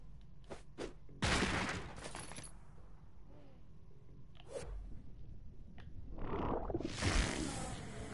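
Bursts of turret gunfire in South Park: The Fractured But Whole, several loud broadband volleys spaced irregularly with quieter clicks and game effects between them, the heaviest burst near the end.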